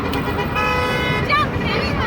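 A passing vehicle sounds a steady car horn close by on a roadway. Shortly after, a second brief toot follows, over traffic noise.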